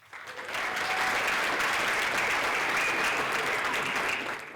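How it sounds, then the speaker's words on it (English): Audience applause at the Meet Magento UK 2024 eCommerce conference, a steady, dense clapping from a large crowd that swells in quickly, holds evenly, and tapers slightly at the end. "Please give a big round of applause from the US for us today, Nichole."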